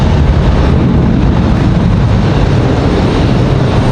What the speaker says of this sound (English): We do have that American departing out of here, what you guys were just hearing there a moment ago.